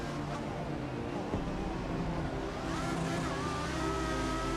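A 2014 Formula 1 car engine in a racing video game drones and revs continuously, a synthetic-sounding whine shifting pitch as it accelerates, with no voices over it.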